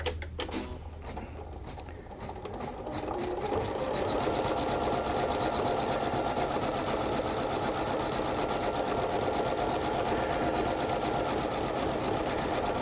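A Janome 9850 embroidery sewing machine stitches a trailer design in blue thread, whirring faintly at first and then settling into a steady, even, rapid hum.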